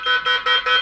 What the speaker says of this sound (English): obviously you can hear the alarm is proceeding to set